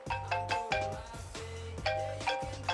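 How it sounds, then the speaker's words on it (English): A mobile phone rings with a repeating melodic chime pattern, several short tonal phrases in quick succession, moderately loud and close, with no talk over it. "my phone's ringing."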